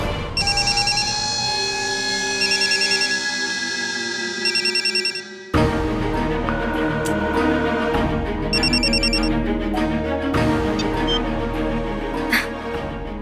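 An electronic phone ringtone repeats in trilling bursts, then gives way to a busier mix of tones and clattering sounds, with no speech.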